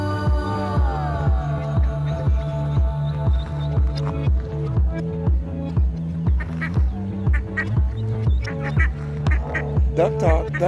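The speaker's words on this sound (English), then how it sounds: "Duck talk, duck talk." A flock of ducks quacks loudly and close by in a rapid, rhythmic chorus of repeated calls, with a few sharper honks mixed in near the end.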